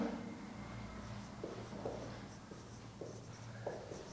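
A teacher writing out equations during a Class 10 math lesson, with soft, close scratching strokes in short bursts over a low background hum.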